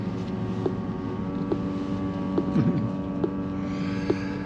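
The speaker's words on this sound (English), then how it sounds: "but I'm pretty sure that noise is the battery cooling system." The battery cooling system of a 2022 Rivian R1T Adventure Package running during fast charging, a steady loud droning hum with a few faint clicks, no voices.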